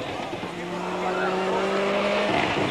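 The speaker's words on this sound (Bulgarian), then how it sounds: "Ето и Шкодата Киткар на Павел Сибера" Skoda Kit Car rally car at the Rally Albena stage in Bulgaria, 1999, its engine droning at a steady high pitch as it races past, with a commentator talking over it.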